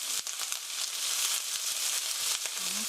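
Onions and garlic frying in a pan for curry noodles, a steady bright sizzle with soft crackles and the odd clink of stirring.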